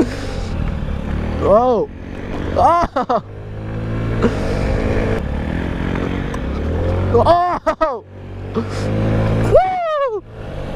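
A small moped engine revs and drones steadily throughout a ride, with rising and falling pitch sweeps as the throttle opens, while riders whoop and exclaim over it.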